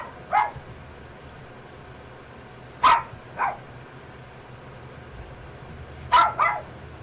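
A small dog barking inside a garage, three separate bursts of one or two sharp yips each, spaced a few seconds apart over a quiet background hum.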